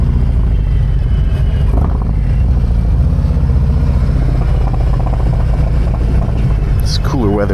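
Motorcycle engine droning steadily and loud throughout a ride in cool weather, with constant wind rush and a brief higher whine near the end.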